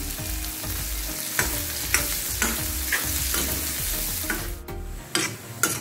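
Two large, finely chopped onions fry and sizzle in oil in a karahi, with a steady sizzle broken by repeated scraping stirs of a spoon against the metal pan at an uneven rhythm, close and fairly loud.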